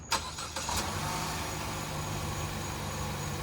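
A Chevy Cruze engine cranks briefly and catches after new spark plugs and coil fix a misfire, then settles into a steady, close idle hum that continues on its own.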